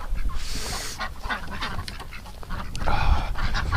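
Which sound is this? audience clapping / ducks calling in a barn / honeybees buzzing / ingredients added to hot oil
ducks calling in a barn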